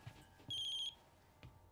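A mobile phone rings indoors in a home: a short, bright electronic ringtone burst with stacked tones, fairly clear against a quiet room, followed by a faint thump.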